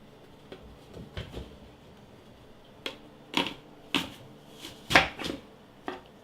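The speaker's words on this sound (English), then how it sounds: "And then we're going to put them through our fancy apple slicer." Apples pushed through an apple slicer in a home kitchen, heard as a series of sharp, separate cutting crunches and clacks, about eight irregularly spaced hits, close and fairly loud.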